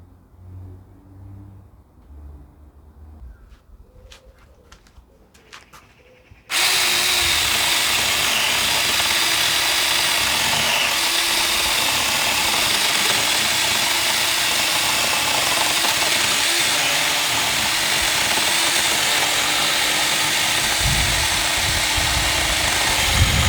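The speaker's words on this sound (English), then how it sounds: "So I'm going to chop a few logs now and see how it goes." A Saker mini 6-inch battery-powered chainsaw cuts through logs, starting after a few quiet seconds of handling clicks and then holding a loud, steady motor whine with rough chain-on-wood rasp, close and continuous with no talking.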